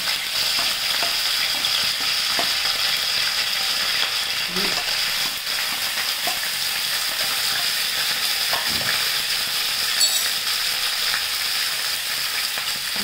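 Curry leaves and cumin seeds frying in hot oil, a steady, loud broadband sizzle that holds evenly throughout with a few faint clicks and knocks from the pan, no voices.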